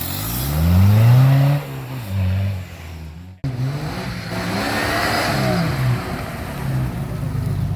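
An off-road car engine revs hard at an off-road driving event, rising and falling in loud repeated surges close by, with a brief cut partway through.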